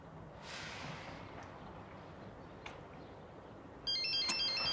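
A mobile phone ringtone starts near the end, a bright electronic melody cutting in suddenly and loudly over quiet room tone in a home.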